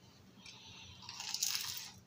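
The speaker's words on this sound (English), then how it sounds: "Did y'all hear that crunch?" A close, crisp crunch of a bite into a fried seafood platter, the brittle breading crackling for about a second.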